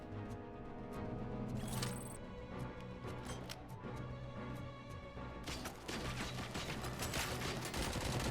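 Rapid bursts of gunfire from the futuristic shooter Robocop: Rogue City, dense and continuous throughout, sitting over a steady low game soundtrack drone, with a heavier burst of shots near the end.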